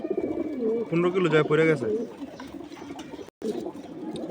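A pet racing pigeon coos in a few rolling, throaty calls close by, while someone speaks over and after it indoors.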